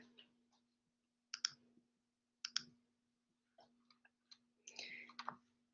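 A computer mouse clicks during an online tutorial: a handful of short, crisp, isolated clicks at irregular intervals over a faint steady hum, with a quick cluster near the end.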